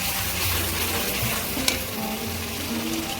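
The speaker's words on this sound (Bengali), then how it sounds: "কাশ্মীরি লঙ্কার গুঁড়ো দেবো মশলা আমি ভালো করে কষিয়ে নিয়েছি" Spices frying in a pan with Kashmiri chili powder and sugar, a close, steady sizzle with stirring scrapes and one sharp utensil tap near the middle.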